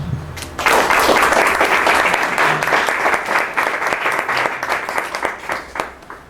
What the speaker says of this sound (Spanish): Por lo tanto, les pido que recibamos al doctor Rodrigo Zúñiga con un aplauso